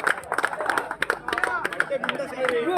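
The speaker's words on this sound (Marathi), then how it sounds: "आपण पाहतोय की टाळ्या वाजल्या, गडगड ऐकायला आला क्रीडा रसिकांच्या माध्यमातून" Spectators clapping at a village kabaddi final after a successful super tackle, with scattered hand claps and crowd noise mixed under loud, continuous commentary.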